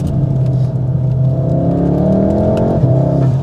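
A Mountune-powered VW Mk7.5 Golf R on the road, its engine a loud, steady, close drone with rising and falling tonal layers as it pulls, and faint higher intake chirps.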